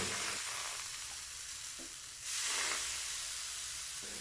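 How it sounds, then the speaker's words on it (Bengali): Gola ruti batter hitting a pan of hot oil, a steady loud sizzle and hiss that swells sharply about halfway through as more batter goes in, with no voices. "তেলটা ভালোভাবে গরম হয়ে গেলে এবার তাতে আমরা মণ্ডটা ঢেলে দেব"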